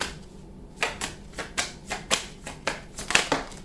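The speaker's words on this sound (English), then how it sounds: "I'm going to split the deck again." Tarot deck being split and cards drawn, giving about a dozen crisp, close card snaps and riffles in a quick irregular rhythm, alone and fairly loud.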